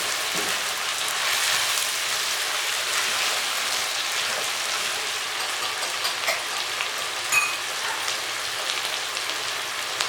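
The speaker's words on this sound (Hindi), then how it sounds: "तब तक इसको हम भूनेंगे" Chicken frying in oil in a karahi for white chicken karahi, a steady dense sizzle like rain, continuous and close, with no voices.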